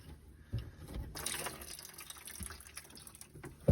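Water splashes and trickles into a container, with a few irregular drips and a sudden louder gush partway through; no talking.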